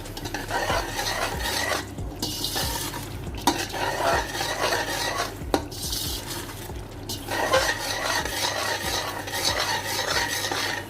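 Masala and spices for mutton pulao are stir-fried in a pot, with constant scraping of a metal spoon against the pot over a steady sizzle, in rhythmic strokes with brief pauses.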